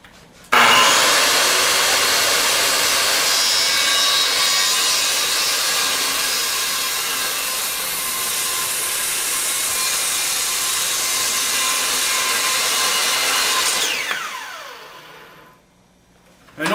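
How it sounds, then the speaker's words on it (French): A circular saw cuts through a piece of wood with a loud, sustained whine that holds steady for about thirteen seconds, then spins down as the blade slows and stops. "Je vais faire la démonstration encore une fois avec la scie"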